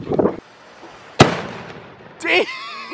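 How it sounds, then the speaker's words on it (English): A bottle rocket firework is lit outdoors at a Fourth of July celebration, giving one sharp, loud bang with a brief hissing tail, with voices before and right after it. "my boy's about to light the bottle rocket now"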